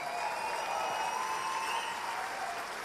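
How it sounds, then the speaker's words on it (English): Audience applause at the Golden Joystick Awards in London's Bloomsbury Big Top, a dense steady ovation from a large crowd with a faint tonal hum behind it. "A big round of applause for everyone"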